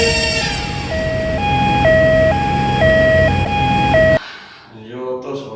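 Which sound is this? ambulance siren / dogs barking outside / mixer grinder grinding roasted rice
ambulance siren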